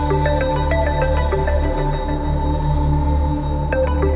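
Phone ringtone ringing, a repeating electronic melodic pattern of bright tonal beeps over a steady hum, loud and continuous throughout.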